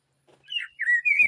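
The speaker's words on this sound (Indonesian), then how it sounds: "suara burung hutan ya, kayak di hutan lah suasananya" A forest bird call added as a sound effect in a cartoon-making app on an Android phone, bright whistled chirps rising and sliding in quick succession, clear and close with no other sound beneath.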